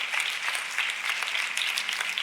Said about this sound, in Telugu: Give a loud clap offering unto గట్టిగా Jesus.